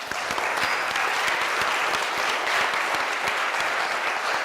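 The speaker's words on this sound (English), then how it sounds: "Applause." Steady, dense applause from a seated audience at a Rotary club luncheon in Oakland, honoring donors; loud, continuous clapping filling the room without a break.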